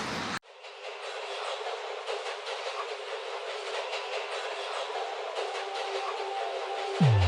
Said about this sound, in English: we're going to take a subway back to the hotel room